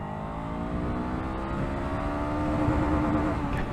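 A 2024 Honda SCL500 scrambler motorcycle pulls hard through the gears, its engine note a steady rising drone heard close and continuous with no pauses.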